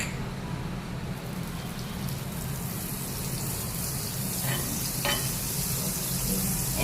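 Butter melting in a hot pan for chili cheese toast gives a steady, broad sizzle with faint crackles throughout, close and even, no voices over it.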